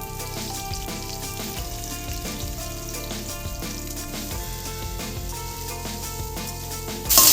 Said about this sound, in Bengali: সয়াবিনটাকে আগে ভালো করে ভেজে নেব।